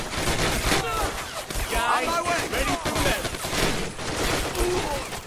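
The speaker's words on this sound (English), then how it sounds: "Our troops have opened fire over from this direction." Heavy, continuous battle gunfire from troops in the Men of War Assault Squad 2 video game, with dense overlapping shots and bursts that fill the whole stretch, with some talk mixed in.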